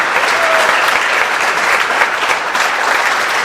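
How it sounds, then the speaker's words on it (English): A school concert audience claps warmly for jazz band soloists, dense and loud sustained applause filling the room throughout with no voices standing out. "applause for our soloists"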